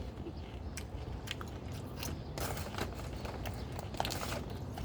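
Werther's Original caramel popcorn being bitten and chewed close to the microphone, quiet crunchy bites and steady mastication with soft crackles, no talking.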